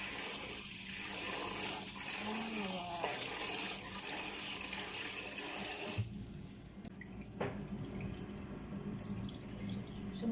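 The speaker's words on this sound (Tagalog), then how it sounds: "Ibabad natin siya muna sa tubig." Tap water runs into a bowl of rice to soak it in a home kitchen, a steady splashing flow that cuts off partway, leaving quieter drips and clinks.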